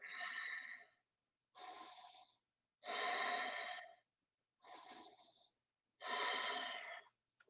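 Five slow, deliberate diaphragmatic breaths, each a long airy inhale or exhale separated by brief silences, close and clear with no talking.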